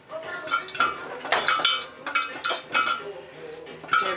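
A small spoon stirring and clinking against a dish of butter, a series of close, light metallic taps and scrapes in an irregular rhythm.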